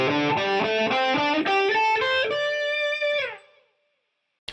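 An electric guitar plays a rising run of notes from low to high, each picked note clear and sustained through distortion and effects, ending on a held note that fades out to silence.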